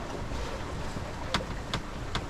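Steady wind rushes over a sailboat gusting to about 22 knots, a constant broadband whoosh with a few brief sharp knocks or flaps, close and moderate in level.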